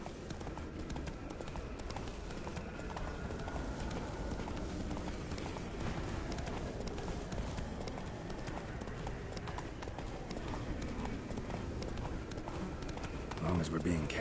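Geralt's horse Roach gallops in The Witcher 3 video game, steady rapid hoofbeats pounding throughout with a busy game soundscape and voices talking over it.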